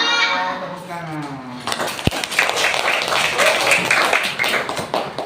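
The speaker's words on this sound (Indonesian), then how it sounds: "Tepuk tangan." A voice carries a sustained melodic tone before elementary school students in a religious education class break into a burst of brisk, close clapping that continues to the end.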